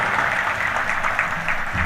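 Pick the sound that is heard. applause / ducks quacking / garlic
applause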